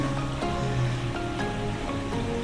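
Stream water rushing down into a small rock pit at the Devil's Bathtub in Hocking Hills State Park, Ohio, a steady, continuous broadband wash with no voices.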